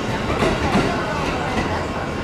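A Gunma Prefecture commuter train, formerly run in Tokyo, moves through a station: a continuous loud rumble of wheels and carriage noise with faint clatter, steady throughout, with voices mixed in.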